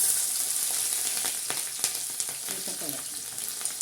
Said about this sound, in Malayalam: ഈ എണ്ണയിലേക്ക് നമുക്ക് കടുകിടാം. കടുക് പൊട്ടി ഇതിലേക്ക് നമുക്ക് വെളുത്തുള്ളി, ഇഞ്ചി, പച്ചമുളക് ഇട്ട് കൊടുക്കാം.